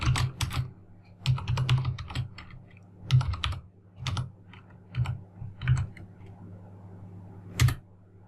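Someone types code into GameMaker Studio on a computer keyboard, with quick clusters of keystrokes broken by short pauses, close and clear with no talk.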